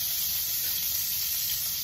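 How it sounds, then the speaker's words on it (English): Steady sizzling hiss of onions frying in hot bacon grease, continuous and close, with no talking. "I'm frying up my onions."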